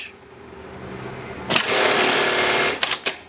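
Atlas AT-1852 automatic direct-drive bartack sewing machine running a 42-stitch cycle: a quiet idle hum, then a loud steady burst of rapid stitching for over a second, ending in a few sharp clicks as the cycle stops.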